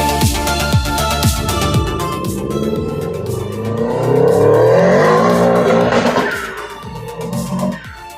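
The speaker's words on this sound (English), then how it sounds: "Those car sounds were from the vault from Jackson." Cars recorded in Australia, engines roaring and revving close by with rising and falling pitch, a burst of hard acceleration in the middle and a brief tyre squeal before the sound eases off at the end.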